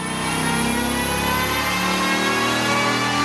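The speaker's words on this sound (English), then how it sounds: "we threw it on the dyno to see how much power we could squeeze out of its stock V10 by just tweaking the tune" A stock Dodge Viper V10 on a dyno, a loud, steady, sustained engine drone rising slowly in pitch as the revs climb, heard up close and alone.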